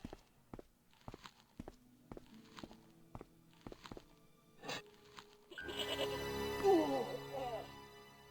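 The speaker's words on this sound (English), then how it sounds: "The rope by which the goat was tethered had become tangled on the old plowshare." A goat in the video game Broken Sword, tethered by a tangled rope to an old plowshare, gives a loud wavering bleat after a run of steady, evenly spaced footsteps; soft background music is also present.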